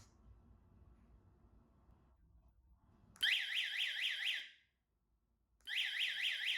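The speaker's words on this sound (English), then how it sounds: "It makes an alarm system with sound and light." A 4-channel relay remote control alarm system sounds a loud, rapidly warbling electronic siren in two bursts separated by a short silence, following a faint low rumble at the start.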